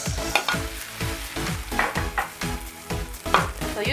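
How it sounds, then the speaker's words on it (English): Spanish potato omelette sizzling and frying in a pan as it is turned over, with repeated scraping and stirring strokes of a spoon at a steady rhythm, close and fairly loud with no talking. "now I'm going to turn it the other side so that it can cook all sides"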